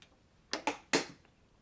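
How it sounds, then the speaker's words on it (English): Scissor blades scrape along ribbon-like fly-tying material on a perch-pattern musky fly, three quick close rasping strokes, the last longest, in an otherwise quiet room. "So if you just run your scissors along it,"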